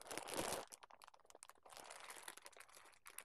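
Plastic packaging of a plush toy crinkling and tearing as it is pulled open by hand, a close, busy run of crackles and rips with a louder burst at the start.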